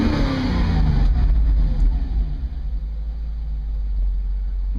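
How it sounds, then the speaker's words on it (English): A Mercedes R129 500SL with its M119 V8 idles steadily after a spark plug replacement, a deep, even low rumble heard close up with no talking. "if you see the idle is rock steady now"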